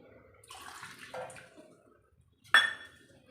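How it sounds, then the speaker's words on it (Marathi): Water poured into a semolina mixture in a bowl in short bursts, ending with a louder, brief gush and splash up close. "आपल्याला एक वाटी पाणी टाकून द्यायचं आहे"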